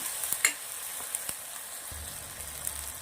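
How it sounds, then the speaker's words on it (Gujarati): Chopped tomatoes for dahi bhindi sizzle and fry in a pan, with a steady soft crackle, a few light stirring clicks near the start and a low simmering rumble late on. "ટામેટાં નાખ્યા પછી આપણે 2 થી 3 મિનિટ શેકી લેવાના છે."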